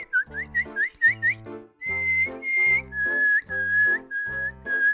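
A person imitates bird calls with the mouth, whistling short, rising chirps in quick repeated bursts and then longer steady whistled tones. Close and clear, with no talking.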